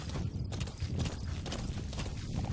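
Horse hooves clopping steadily as the horse is ridden in Metal Gear Solid 5, a continuous loud rhythmic pattern of hoofbeats close by with no talking.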